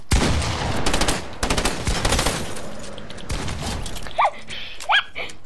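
Rapid bursts of video game gunfire crackle during a 1v1 match, with dense volleys in the first three seconds followed by a quieter tail and a couple of short electronic chirps.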